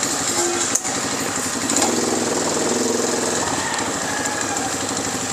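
A Bulltype 300cc 4x4 ATV with semi-automatic transmission runs in reverse, its engine a loud steady putter close by. One brief dip comes early, then a slight change in tone as it moves.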